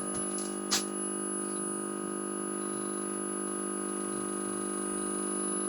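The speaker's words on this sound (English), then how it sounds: "I hear lots and lots of hum." An old Bush Valiant television set gives off a steady, unbroken electrical hum with a thin high line whistle above it, constant and moderately quiet, with one tiny click near the start and no talk.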